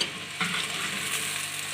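Onions and whole spices, including black and green cardamom, bay leaf and cloves, sizzle and crackle in hot oil in a pan, a steady close hiss with a brief stir near the start.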